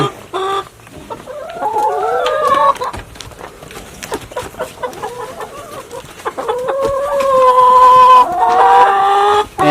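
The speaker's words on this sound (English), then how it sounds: "And the chickens came with the coop." Chickens cluck and squawk close by inside a homestead coop, with overlapping bird calls and a few rooster-like crowing notes rising and falling throughout.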